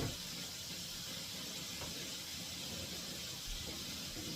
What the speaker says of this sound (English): Sausage in the skillet.